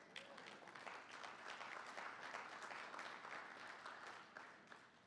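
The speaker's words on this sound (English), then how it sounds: "You can clap for yourself" A conference audience claps for themselves, a steady wash of many hands filling the room for several seconds before thinning out near the end.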